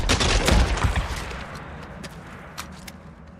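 Shotgun gunfire in the video game Days Gone, a burst of heavy booming blasts up front that fade into sparser, fainter cracks and rattles later on.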